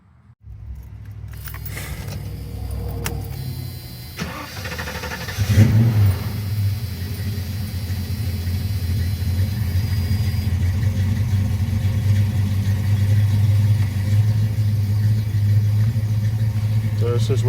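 A carbureted 1983 Ford Mustang GT engine with new fuel lines runs steadily at close range, with a strong low rumble that builds after a brief rev and then holds a constant idle for the rest of the clip.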